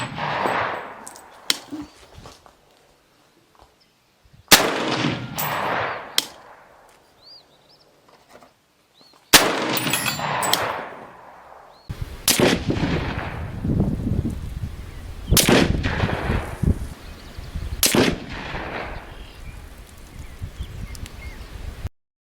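Semi-automatic M10X rifle fires brass-cased 7.62x39 hand loads with Hornady InterLock projectiles, about six loud, sharp cracks spaced several seconds apart at a range, each followed by a ringing decay.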